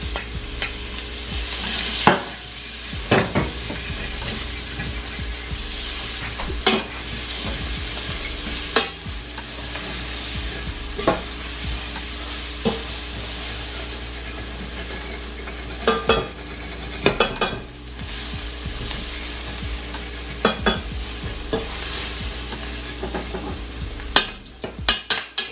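Onions frying in cube steak and flour drippings for onion gravy, a steady close sizzle with scraping stirs and occasional utensil clinks against the pan throughout.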